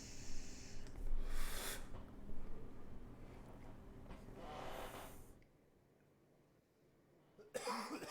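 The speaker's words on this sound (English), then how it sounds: "just doing a little bit of coughing going on there" Several rough, breathy coughs in close succession, then a quiet pause before one more short cough at the end.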